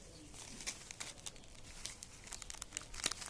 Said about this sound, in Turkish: Şöyle baloncuklu poşetten kurtulmaya çalışıyorum